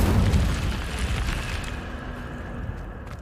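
An Incendio fire spell bursts in Hogwarts Legacy with a loud, deep whoosh-boom at the start that slowly fades over the next few seconds, with no voice over it.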